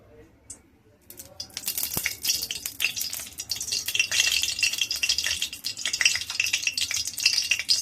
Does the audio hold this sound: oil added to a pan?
yes